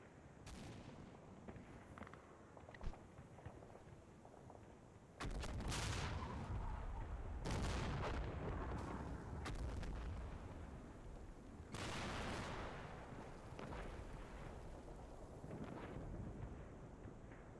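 Gunfire from infantry contacts in a World War II tank battle video game, dull distant bursts and heavy booms rumbling over steady wind-like ambience, with several louder sustained stretches of firing.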